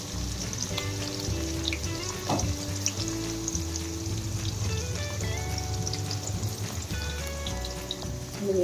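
Onions, green chillies and garlic fry in a pan with a steady, close sizzle and crackle that runs the whole way through. Faint tonal background sounds sit beneath the frying.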